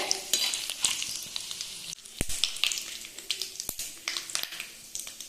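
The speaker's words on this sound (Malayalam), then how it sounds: "കൂടെ രണ്ട് പച്ചമുളക് ഇട്ട് ഒന്ന് മൂത്ത് വരട്ടെ കേട്ടോ കടലപ്പരിപ്പ് ഉഴുന്ന പരിപ്പും ഒന്ന് കളർ മാറി വരട്ടെ" Green chillies, chana dal and urad dal fry in hot oil with a bright, continuous crackling sizzle. Occasional sharp clinks and scrapes come from stirring in the pan, and there is no talking.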